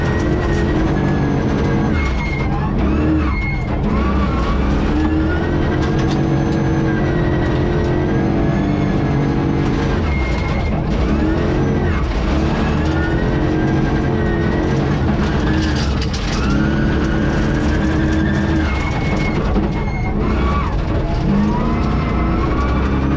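A V8 rally car with a Hollinger gearbox drives and revs, its engine a steady loud roar with rising and falling tones throughout, alone without talk.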